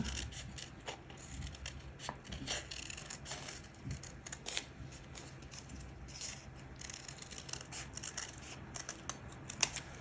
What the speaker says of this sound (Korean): 이렇게 한번 오려 보겠습니다